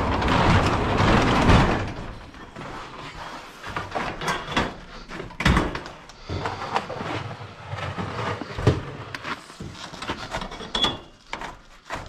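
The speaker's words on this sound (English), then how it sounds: "Shut the garage door." A residential garage door is pulled shut, giving a loud rumbling slide that fades after about two seconds, then scattered knocks and rattles.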